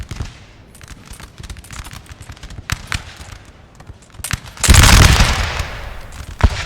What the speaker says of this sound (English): They are firing through quite a wooded area